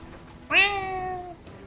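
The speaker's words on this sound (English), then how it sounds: "That's a cat." A single cat meows once, a clear drawn-out tonal cry just under a second long, close and fairly loud against a quiet background.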